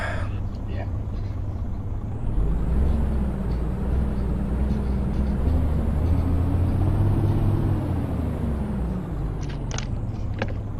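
Mercedes Actros MP3 truck with the V8 598 horsepower BlueTech 5 engine in Euro Truck Simulator 2, idling with a deep loud rumble, then revving up and back down in a steady swell, with someone talking over it.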